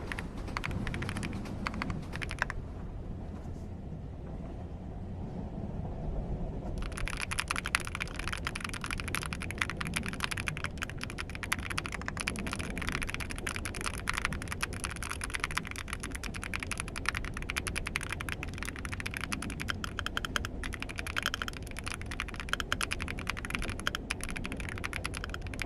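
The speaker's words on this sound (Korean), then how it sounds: "지금 키보드 소리를 좀 들려주자면" Rapid, continuous clacking of a mechanical keyboard being typed on, close up, with a steady low background hum and a brief pause early on.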